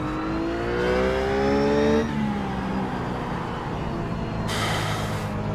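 A Ruf GT3 race car engine in the iRacing sim at Silverstone Historical holds a high, strained rev, then drops sharply at about two seconds and settles into a lower, steady drone. It is loud and close, with no talking.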